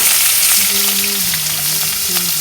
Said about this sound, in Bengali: তেলও গরম হয়ে গেছে পেঁয়াজ কুচি দিয়ে দিলাম